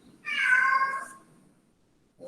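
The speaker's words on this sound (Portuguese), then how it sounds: "Meu gatinho tá miando aqui" A pet cat at home gives a single drawn-out meow, close and clear, rising then fading. Quiet surrounds it, with no talking.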